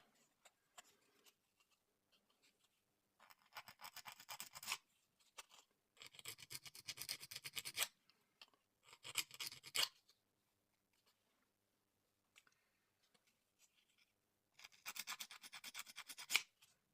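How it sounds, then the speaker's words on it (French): Hand file rasping on a small plastic part of a Goldorak model kit, several short bursts of quick scraping strokes separated by quiet pauses, close and fairly faint. "un petit coup de lime"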